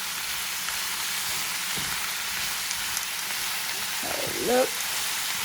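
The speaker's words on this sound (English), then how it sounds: "So here is the onions and the carrots. Sauteing it up so it can get caramelized as Chef Milla said." Onions and carrots sauté on high heat in a pan, making a constant rain-like sizzle with a brief murmur of talk near the end.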